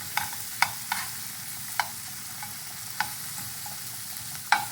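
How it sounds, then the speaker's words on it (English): Shrimp and asparagus sizzle in a hot skillet, a steady close frying hiss broken by sharp clicks and scrapes of stirring, with no talk. "You got nice sizzle on there."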